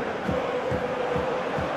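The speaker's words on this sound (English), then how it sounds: "the crowd's impatience is an indicator that they haven't quite given up on a goal" An impatient stadium crowd in the football game Football Life 20, during a Club Brugge versus PAOK match, keeps up a steady distant roar with rhythmic chanting pulses underneath.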